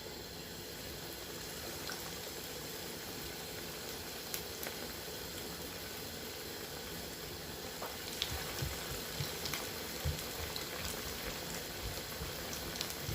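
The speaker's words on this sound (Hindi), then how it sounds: "तो अब हम इसको फ्राई करेंगे।" Spice-coated mutton chops frying in hot oil, a steady, close sizzle and crackle that runs throughout with occasional pops, no voices over it.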